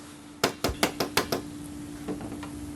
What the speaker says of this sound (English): I'll also be using a hammer so I can bend the tabs up nice and straight